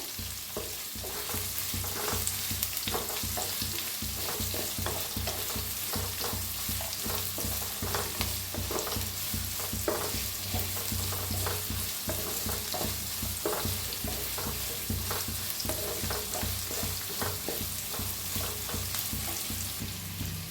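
Two lengthwise-sliced onions fry in a pan with a steady, dense sizzle that runs throughout, broken by frequent scraping stirs. No one speaks.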